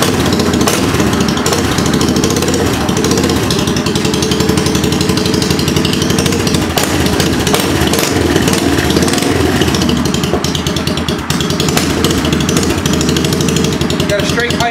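A 1984 Honda 200M with a straight pipe runs after a cold start, its engine a loud, close, continuous rattling roar with rapid firing pulses, holding steady throughout.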